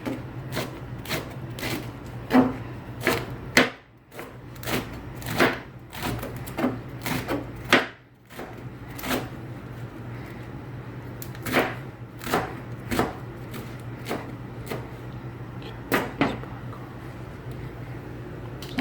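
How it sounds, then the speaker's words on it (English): Knife cutting rolled collard greens into ribbons on a cutting board, a long run of quick, crisp chops in a steady rhythm with a few brief pauses, close and clear. "And then she would slice them into ribbons."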